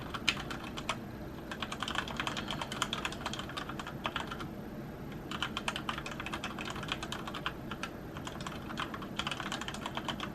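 Rapid clattering keystrokes on a gaming keyboard during a typing test, close and continuous with a few short pauses between bursts.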